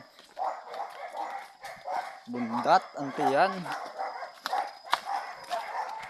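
A dog gives a couple of close, drawn-out barks or yelps partway through, under steady talk from people nearby.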